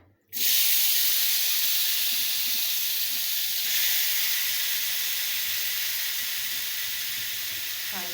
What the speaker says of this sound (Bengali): লাউটা একটু সিদ্ধ করে নিচ্ছি।